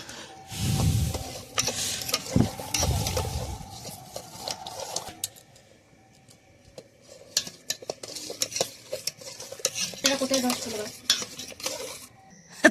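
A pot of rice pudding made with fresh date palm juice boils while a spoon stirs and scrapes it. Low bubbling comes first, then clinks and scraping metal-on-pot knocks come and go over a soft simmering hiss.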